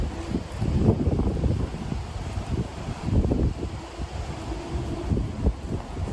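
Gusty wind on a riverbank buffets the microphone with a steady low rumble that swells and eases in irregular gusts, loud and continuous, with no one talking.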